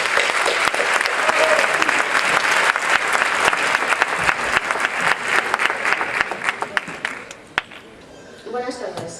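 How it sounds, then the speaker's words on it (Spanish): A graduation ceremony audience claps loudly and steadily as a parents' association president is introduced, the applause thinning into scattered claps before a voice begins speaking near the end. "Un fuerte aplauso."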